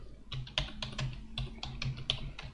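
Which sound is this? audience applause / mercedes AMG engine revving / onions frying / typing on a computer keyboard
typing on a computer keyboard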